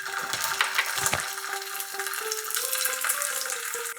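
Bengali biuli dal being fried with spices in mustard oil, a close, steady sizzle and crackle with clinks of a spoon stirring the pot, no voices.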